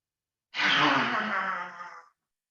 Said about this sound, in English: you're breathing in. You're breathing in your stomach.